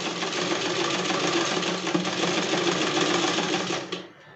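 A sewing machine, run by hand rather than by its motor, stitches zigzag edges on a saree with a steady, rapid mechanical clatter. It runs close and continuously, then slows and stops at the end.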